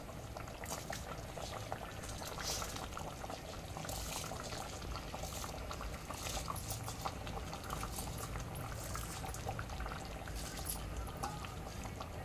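Soaked rice going into a pot of water for chicken pulao, with a steady close bubbling and gurgling of hot liquid and soft pattering splashes throughout, no voices.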